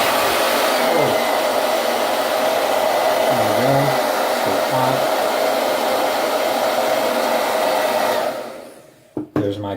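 Hair dryer blowing steadily at close range to quick-dry a drop, a loud continuous whooshing roar lasting about eight seconds before switching off, followed by a few faint knocks.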